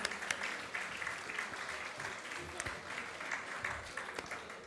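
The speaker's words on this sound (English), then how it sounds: "One more time, a big round of applause." Students and guests at a youth anti-drug workshop give a sustained round of applause, a dense wash of clapping at moderate level from a sizable crowd.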